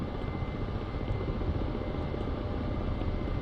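A Ka-50 coaxial helicopter in DCS drones with a steady, loud turbine and rotor hum, constant and unbroken from start to finish, with no talking.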